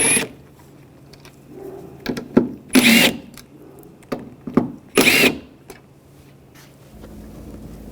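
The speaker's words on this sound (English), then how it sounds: "Using a T30 socket, take these screws out." Power tool with a T30 socket backing screws out of a 2011-2018 Ram 1500 front door panel, heard as several short whirring bursts at close range separated by quiet handling noise.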